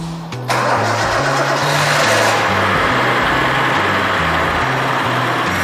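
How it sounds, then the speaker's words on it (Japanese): A first-generation Nissan Fairlady Z's fuel-injected engine cranks briefly and catches, then settles into a steady, loud idle with a rhythmic low rumble. "じゃあエンジンかけましょう"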